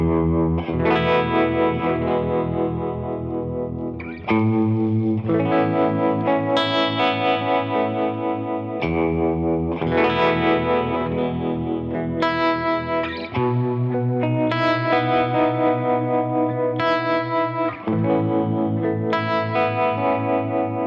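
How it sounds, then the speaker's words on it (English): Electric guitar through a Jam Pedals Harmonious Monk v2 harmonic tremolo pedal, with loud sustained chords that change every few seconds and a rich, effected tone, played alone. "This is a tremolo, but it's a harmonic tremolo."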